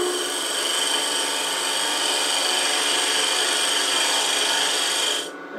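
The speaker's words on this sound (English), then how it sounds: "I think I'll just take it down a little bit with this beading and parting tool" A beading and parting tool cuts holly wood spinning on a lathe, giving a steady, close, raspy hiss that runs evenly before cutting off abruptly at the end.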